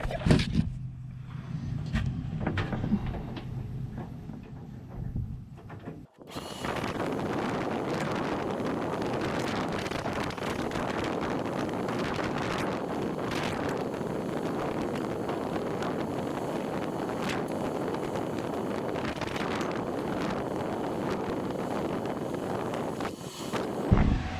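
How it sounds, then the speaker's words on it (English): A propane heater warming a tool trailer runs with a steady, broad whooshing roar after a quieter stretch with faint background, the propane tank hissing along continuously at close range. "I can hear the propane tank kind of whizzing away"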